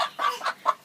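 Chickens being caught by hand give a quick series of close, clear clucks, four short bursts in under a second.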